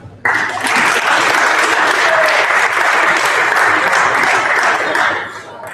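Loud, sustained applause from a crowd at a university presidential debate breaks out suddenly and continues for several seconds before beginning to fade.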